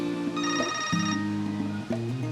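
Telephone ringing indoors in a home: a couple of bright electronic ring bursts, moderately loud, with a short gap between them.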